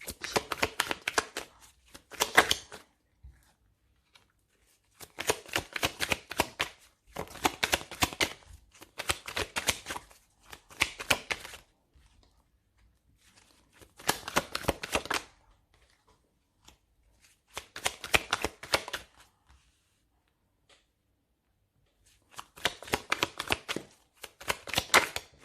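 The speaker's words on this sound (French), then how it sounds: "Allez, on va poser 9 cartes." Tarot cards are shuffled in bursts of rapid riffling and flicking, close and crisp, separated by quiet gaps as the cards are laid out.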